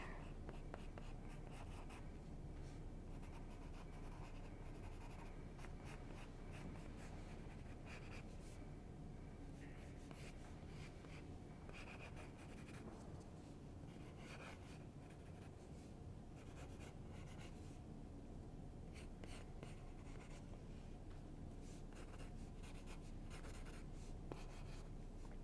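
A pencil scratches across paper while a Halloween sketch is drawn, giving a steady, soft, continuous rasp of strokes that lasts throughout at low level.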